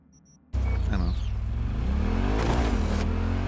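A car engine in Cyberpunk 2077 bursts to life after a brief quiet moment and revs loudly and close, with the pitch sweeping up and down and a sustained rumbling drone underneath.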